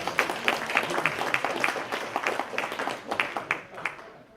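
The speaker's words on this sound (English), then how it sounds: "Let's give the general a round of applause." Scattered audience applause for a retired general at a counterterrorism talk, fairly quiet and steady for a few seconds, with individual claps distinct against a soft room background.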